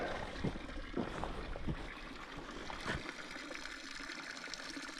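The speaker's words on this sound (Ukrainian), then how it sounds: "Таке от джерело. Зупинився, набрати водички." Water from a roadside spring in Sardinia splashes and trickles steadily as bottles are filled, a close, continuous watery babble with a few louder gurgles and splashes.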